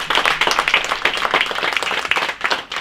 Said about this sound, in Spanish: Den un aplauso bien fuerte a Él.